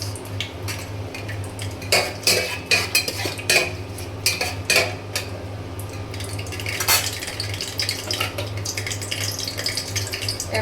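Whole cinnamon pieces and cardamom pods frying in ghee and white oil for pulao, stirred with a metal utensil that clinks and scrapes against the pan in irregular bursts over a steady low hum.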